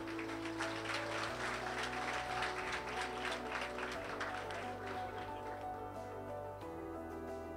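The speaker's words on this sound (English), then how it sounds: "a lusty round of applause for these boys" Steady applause from the crowd at a Hindu school graduation ceremony, a sustained wash of many clapping hands over a low room hum, easing slightly toward the end.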